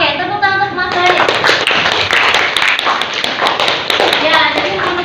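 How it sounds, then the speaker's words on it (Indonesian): A classroom of students claps for a classmate, a brisk burst of many close, sharp hand claps with people talking over and around the applause. "Oke, tepuk tangan untuk Mas Radit."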